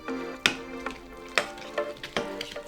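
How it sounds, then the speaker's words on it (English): A spoon mixes pumpkin puree with a cup of brown sugar in a bowl, giving several sharp scraping clinks at an uneven pace, fairly close and quiet, with no voices. "I'm just gonna go ahead and mix this first with just a spoon before I actually use my mixer"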